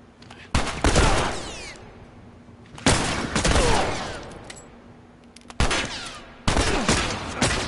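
Gunfire in The Last of Us Remastered on PS5: four loud bursts of rapid shots spaced a couple of seconds apart, each trailing off into echoing decay.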